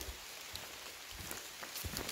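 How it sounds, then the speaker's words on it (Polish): Steady rain falls on the mountain slopes of Połonina Caryńska, a dense hiss of patter with scattered sharper drops hitting nearby surfaces and no voices. "mam wrażenie, jakby padało coraz mocniej"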